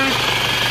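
A loud, steady mechanical whine and rattle from a running Isuzu Panther engine, with a harsh high-pitched squeal from a worn fan belt riding continuously over the idle.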